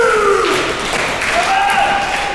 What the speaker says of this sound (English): I have never heard so many fans cheer for someone from underneath the earth